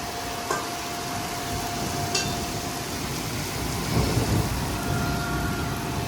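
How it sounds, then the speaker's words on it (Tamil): Heavy rain pouring steadily in Switzerland, with distant thunder rumbling low beneath the constant loud hiss and a few brief knocks and drips. "இடி முழக்கம், மழை, மின்னல் எல்லாம் அடிக்குது."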